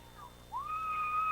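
A referee's whistle at a high school football game, a single sustained shrill blast that bends upward and holds steady for close to a second, moderately loud over faint crowd murmur.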